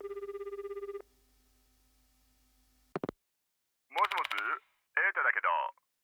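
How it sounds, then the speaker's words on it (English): A landline telephone in a school infirmary in the horror game Death Mark 2 gives a steady electronic ring for about a second after a number is dialed, followed by a click and then a voice speaking. "I pick up the landline phone in the infirmary and punch in the number for Kujo Mansion."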